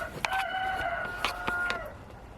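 Backyard chickens kept alongside rabbits clucking during winter chores, several short calls in quick succession at close range with no talk over them.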